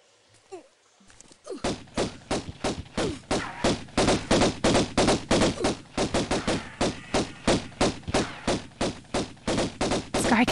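Pistol fire in Tomb Raider (1996) rings out in sharp, evenly spaced shots, a long rapid volley of loud reports that continues almost without pause after a short quiet opening.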